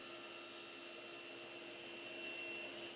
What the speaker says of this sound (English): Cut just a little bit until the blade is even with the slot.